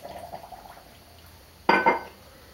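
A cup of water is poured into a blender for grapefruit and chard juice, a short splashing burst near the end after quiet faint clinks.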